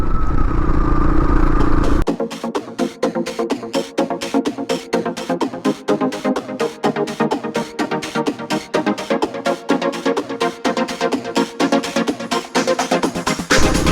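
Motorcycle ride on an open road in rural Australia after a fix to the bike: a steady, close engine drone with rhythmic clatter and rumble throughout, louder wind-like noise in the first two seconds, no talk.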